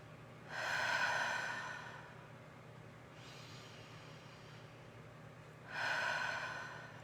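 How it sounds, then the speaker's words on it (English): Two long, slow, deep breaths, each a broad rushing inhale or exhale lasting several seconds, with a softer breath between them, close and calm in a quiet room. "So, a couple of nice deep breaths."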